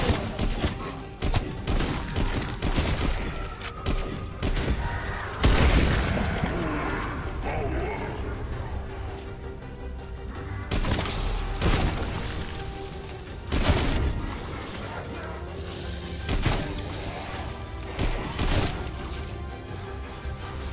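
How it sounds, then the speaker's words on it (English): Death Machine gunfire and C4 explosions in Call of Duty: Black Ops Cold War zombies, round 100 Onslaught: dense, loud, continuous rapid fire with repeated heavy booms throughout, game voice lines mixed in. "Throwing C4. Firing death machine."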